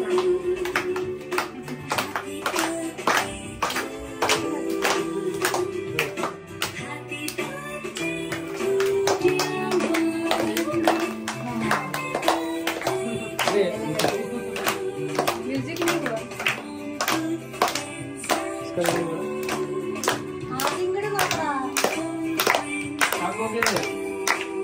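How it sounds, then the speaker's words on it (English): At a child's ninth birthday, people clap their hands in a steady rhythm, close and continuous, along with voices singing or chanting. "Clap your hands."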